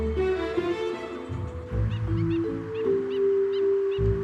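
Large flocks of birds gathered at salt pans near a vast mudflat, a dense layered chorus of calls and harsh caws rising and falling continuously at moderate distance, with low rumbling background.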